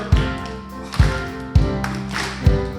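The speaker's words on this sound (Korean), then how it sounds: "우리 박수 치면서 찬양할까요?" A church congregation claps in time to a hymn at a revival service, with four loud, evenly spaced claps over a sustained backdrop of singing voices and instruments.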